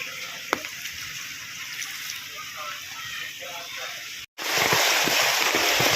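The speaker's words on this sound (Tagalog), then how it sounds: "Ilog na yung kalsada." Floodwater rushes steadily along a road turned into a river at dusk, a continuous broadband wash that briefly cuts out and then returns louder and rougher, with faint voices in the background.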